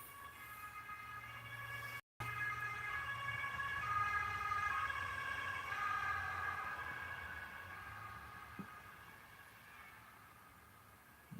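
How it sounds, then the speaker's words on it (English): An ambulance siren wails steadily at a distance, swelling gradually as it passes and then fading away, with a quiet street background. "That was ambulance,"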